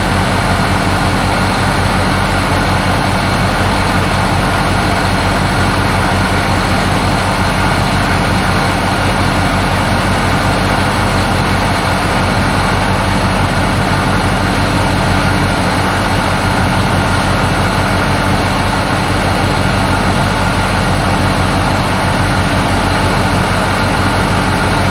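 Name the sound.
John Deere 8130 tractor engine running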